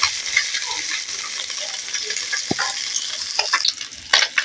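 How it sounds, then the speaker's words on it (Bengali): Small mourola fish fry in hot oil, a dense continuous sizzle with bubbling crackles, close and loud, with a few sharp clinks of a spatula near the end. "এইভাবে আমার দুবার মাছগুলো ভাজতে হবে। আমি ভেজে নেব।"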